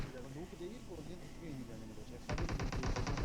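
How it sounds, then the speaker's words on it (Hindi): Rapid automatic gunfire from the PUBG battle-royale game on the Livik map bursts in near the end, loud and dense after a stretch of speech-like game audio. "मैंने उसे फायर दी पर कुछ भी नहीं"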